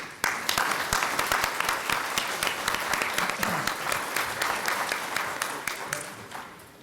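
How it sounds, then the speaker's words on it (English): Applause in a church hall for a speaker on Black youth suicide and mental health, many hands clapping sharply and continuously for several seconds at moderate volume. "Let's give her applause."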